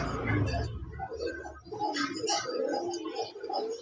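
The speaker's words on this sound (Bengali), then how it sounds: "নটটার ডাকটা দেখেন, কবুতরের অ্যাক্টিভিটিসটা দেখেন" A male fancy pigeon in a breeding pair at a pigeon farm gives repeated low cooing calls close by, with some light clicking around it.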